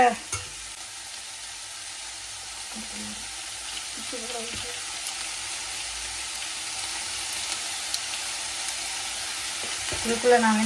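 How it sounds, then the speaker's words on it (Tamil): Whole spices and green chillies sizzle steadily in hot oil in a pan for a paneer curry, with occasional stirring scrapes and a soft background hiss throughout. "ஏலம், கருவா, இந்த பச்சை மிளகாய் அதையும் போட்டு வதக்குவோம்"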